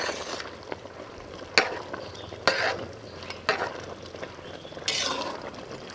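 Several scraping stirs in a pot of boiling rice with field beans, spaced a second or so apart, over a steady bubbling hiss; close and fairly loud, with no voices.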